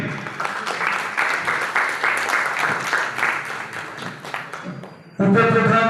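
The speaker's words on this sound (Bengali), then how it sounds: "হাততালি" An audience at a welcome ceremony for a mobile phone dealers' welfare association awareness programme breaks into sustained clapping, dense and steady, before it gives way to a louder closing burst of sound.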